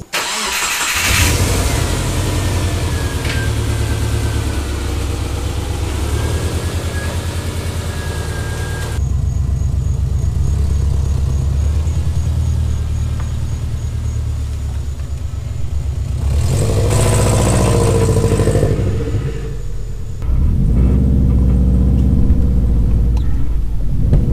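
A lifted Subaru fitted with new coilovers, camber bolts and spacers is driven on a test drive, its engine and road noise forming a steady rumble from inside the cabin, with a brief louder surge near the end.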